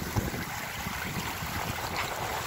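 A Cal 29 sailboat runs before a strong following wind on the open North Pacific southwest of Cape St. James, with steady broadband wind and wave rush filling the scene continuously and no voices.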